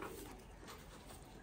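Pigeons kept by a fancier, a breeding pair with young, coo softly and steadily at close range amid faint background noise, with no voices.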